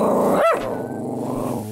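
A small dog outdoors in snow growls and barks: a sharp bark near the start, then a continuous low, rumbling growl that carries on close and loud until the end, with no talking.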